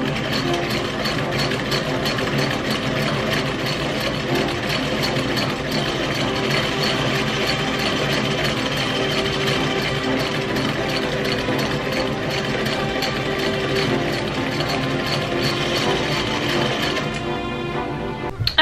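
A sewing machine runs steadily through French seams on gilded-age tea gown panels, a fast, even mechanical whir that holds unbroken for nearly the whole stretch before stopping at the end.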